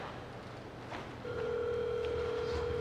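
A telephone call connecting on a speakerphone at a Rotary Club meeting, a brief tone blip followed by a steady, sustained dial or ringback tone that gets louder and holds, with room hiss behind it.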